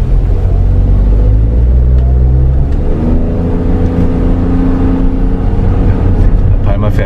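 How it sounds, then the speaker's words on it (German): A car's engine drones steadily while driving on a remotely controlled electric drive with geofencing, a loud, low, continuous hum whose pitch climbs partway through as the revs rise. "Wir hören auch deutlich den Motor brummen"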